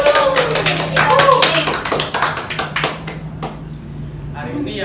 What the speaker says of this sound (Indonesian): Wah, tepuk tangan dulu.